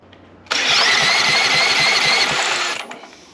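A small engine, freshly cleaned carburetor and air cleaner refitted, bursts into life after a brief pull and runs loud and buzzy for about two seconds before cutting out, close by with no talking.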